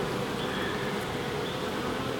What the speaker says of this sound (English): it looks like it's full up with bees